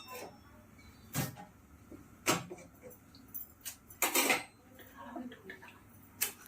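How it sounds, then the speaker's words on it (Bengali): A metal kadai set down onto a gas stove, several scattered metallic clanks and knocks over a faint background hiss, close by and fairly quiet. "এই যে কড়াইটা বসালাম"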